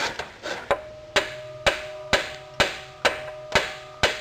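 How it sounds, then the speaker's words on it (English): Repeated heavy hammer blows on a ball joint of a 1998 Buick Park Avenue, about nine evenly spaced strikes, each a sharp ringing clang that decays quickly, close and loud. "take a hammer and hit it right here and see if I can break that sucker loose"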